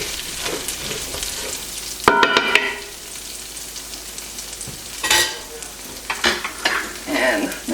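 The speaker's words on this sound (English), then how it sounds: "go ahead and scrape up this that's cooked to the bottom" Spoon scraping and stirring cream sauce stuck to the bottom of a pan, with scrapes at irregular intervals and a louder clatter of utensil against metal, over a faint sizzle and no talk.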